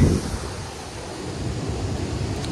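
Steady broadband rushing water, a continuous wash of noise with no breaks or voices, from Duduma waterfall in Koraput, Odisha, heard from a short distance.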